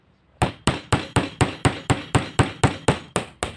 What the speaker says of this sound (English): So I just nail it about 1 centimeter apart